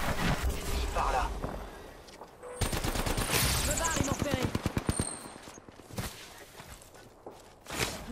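Rapid automatic gunfire from an Apex Legends battle rings out in bursts across the middle of the passage, with shots and footsteps mixed among in-game voice lines and player talk.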